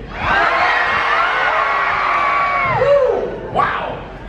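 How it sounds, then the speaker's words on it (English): Theme-park audience at an Indiana Jones stunt show screaming together on cue, a loud sustained wall of mixed shrieks and yells from a large crowd, rising briefly near the end before trailing off. "I want you all to scream as though you were standing on a trap door."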